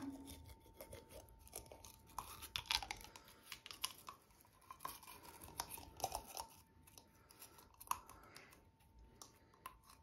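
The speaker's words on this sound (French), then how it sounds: "Donc, brossage de dents avant de dormir." A Malinois puppy's teeth are brushed before bed. Irregular close scratchy bristle scrubbing mixes with soft chewing and clicking as the puppy mouths the brush, quiet and uneven throughout.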